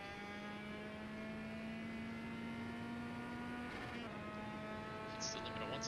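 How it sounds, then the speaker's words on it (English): A touring car in the Automobilista racing game, on the Goiania circuit, holds a high steady engine tone bouncing off the rev limiter, then drops and climbs again through a gear change. "Hits the limiter once again, using all the revs and more."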